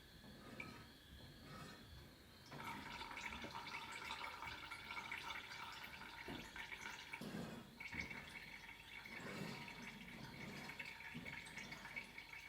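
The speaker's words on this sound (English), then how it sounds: "we'll just let all of that fluid drain out and down into our container" Old power steering fluid drains from a hose into a container as the wheels are turned side to side, giving a faint, steady trickle and drip of liquid throughout, with soft handling noises and no talk.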